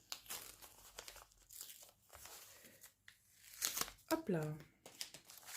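Paper envelope being torn open by hand at close range, a crinkling rip that rises near the end, preceded by soft handling rustles; someone speaks briefly in French.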